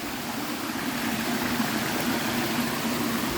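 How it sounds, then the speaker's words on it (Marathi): Rainwater stream rushes steadily near a hillside temple in the Konkan countryside, a continuous dense broadband flow with no breaks, close and fairly loud. "इथे पाण्याचा प्रवाह आहे पावसातून आलेला."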